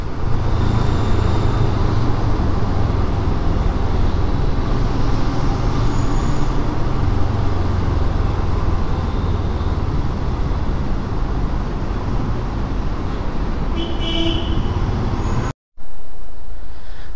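Dense road traffic on a ghat road on a solo ride toward Mumbai, heard as a continuous loud engine rumble from cars, buses and trucks, with a brief horn near the end before a sudden cut.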